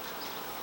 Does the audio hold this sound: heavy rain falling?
no